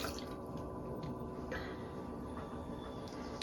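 Water is sponged out of a tall thrown clay pottery form for a birdhouse, with soft wet squishes and small drips against a quiet, steady background hum.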